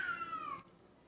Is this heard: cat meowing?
yes